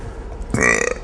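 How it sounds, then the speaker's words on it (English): A woman gives a short, loud belch on cue, a single burp rising abruptly out of quiet room tone and lasting about half a second. "I can burp on cue."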